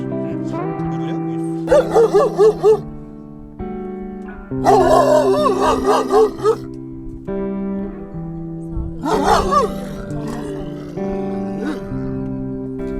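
A dog at a lakeside campsite barks in short bursts with whining yips between, separated by quieter stretches; a low steady hum runs underneath.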